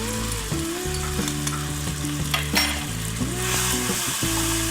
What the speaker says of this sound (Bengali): আবার আমি মশলাটা একটু কষিয়ে নিচ্ছি।